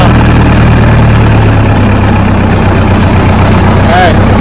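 Case 580CK backhoe diesel engine idling loud and close, a steady low rumbling throb that stays constant throughout with no talk over it.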